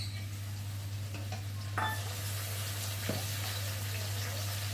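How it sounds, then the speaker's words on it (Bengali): Potatoes already fried in a pan, with chopped tomato and green chilli tipped in and stirred. A steady sizzle runs throughout, with a few scraping stir knocks over a constant low hum. "এখন আমি দিয়ে দেবো এর মধ্যে টমেটো কুচি আর কাঁচা লঙ্কা"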